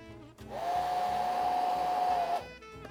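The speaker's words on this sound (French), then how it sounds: "les différents capteurs ici vont devoir être détachés via un sèche-cheveux" A hair dryer, used to loosen an iPhone 8 screen's adhesive, starts up and blows steadily with a constant high whine for about two seconds, then cuts off.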